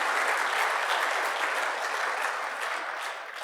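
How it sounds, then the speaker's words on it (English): A large conference audience breaks into a sustained round of applause for a corporate partner, dense even clapping filling the room and tapering slightly toward the end. "a round of applause for Dun & Bradstreet and all they've been able to do to bring TradeView to life"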